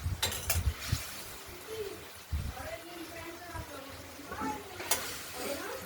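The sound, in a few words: spice paste frying and being stirred in a pan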